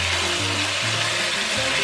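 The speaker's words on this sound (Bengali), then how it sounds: "যে তেলের মধ্যে আমি বেরেস্তাগুলো ভেজেছিলাম সেই তেলের মধ্যে আমি চিকেনগুলো দিয়ে দিচ্ছি।" Large chicken pieces frying in oil left from frying onions for a Bengali chicken roast: a loud, steady, unbroken sizzle that stays close and even throughout.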